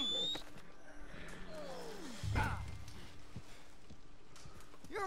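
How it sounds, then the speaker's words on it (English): Horse hooves in the Red Dead Redemption 2 video game, soft clip-clopping steps under ambient outdoor game sound, with a brief louder thud midway and faint scattered effects around it. "Get our horse over here."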